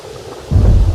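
A sudden deep thunder rumble bursts in halfway through and rolls loudly to the end, with stormy rain noise underneath.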